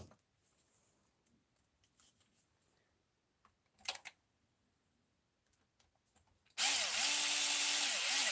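After a few faint knocks and scrapes, a power tool abruptly whirs up loud and close while driving screws into the battery tray of a Redcat Kaiju V1 RC truck, holding a steady buzzing drone.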